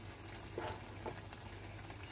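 Eggs and potatoes in a pan, with about half a cup of water just added, give off a faint, steady sizzle with soft bubbling pops, quiet and without talk.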